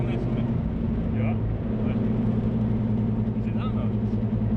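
Mazda MX-5 Miata NB 1.8 with a big turbo running with a steady droning engine and exhaust note, steady and close, while people talk over it.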